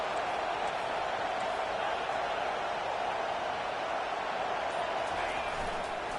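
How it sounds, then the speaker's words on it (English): Stadium crowd noise in a college football video game, a steady broadband roar that holds loud and continuous throughout on a third-down defensive stand. "Decibels rising as the crowd gets behind this defense on third down."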